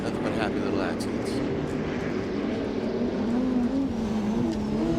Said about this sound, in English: Let's see what kind of happy little clouds this Toyota Supra of Ken Gucci is going to flare up.